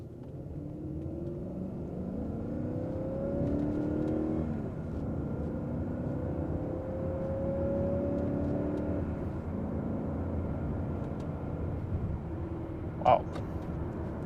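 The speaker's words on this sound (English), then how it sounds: "let's do a quick launch. So to do that, we're gonna put it in manual mode" A BMW E38 740i Sport in manual mode launching hard from a stop, its engine rumbling and rising through revs at a moderate distance inside the car, with a brief sharp click near the end.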